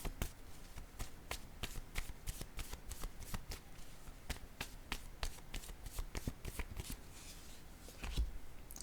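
Playing cards being shuffled and handled up close, a steady run of crisp riffling taps and flicks that continues for several seconds with a slight thump near the end, with no voice.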